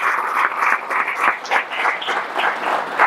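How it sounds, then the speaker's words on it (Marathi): A crowd claps loudly at a large spiritual gathering, the applause swelling in uneven waves for about three seconds with no talk over it. "खरंच आपण एकदा आजी बाबा बद्दल जोरात टाळ्या वाजवायला पाहिजे।"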